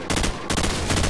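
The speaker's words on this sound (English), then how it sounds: "he's just starting to shoot." Sustained gunfire from the video game Call of Duty 4, dense rapid bursts filling the whole moment, loud and close, with a brief dip in the middle before the shooting resumes.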